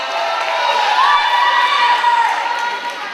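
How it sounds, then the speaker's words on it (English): Loud, sustained crowd cheering and shouting fills a roller derby bout between Canberra Roller Derby League and Sun State Roller Girls, a steady roar with high voices rising throughout. "Make some noise, people in the crowd."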